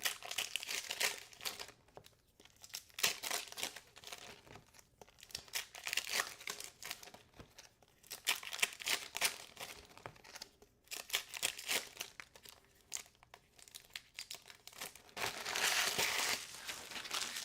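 Foil Pokémon Black Bolt and White Flare booster packs being torn open, with sustained bursts of crinkling and ripping foil wrappers, close and fairly loud, separated by short pauses and no talking.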